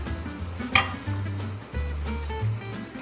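Noodle cooking water ladled into a pan of Buldak fire noodles, a hot sizzle and bubbling with a clink of a ladle against the pan, close and moderately loud.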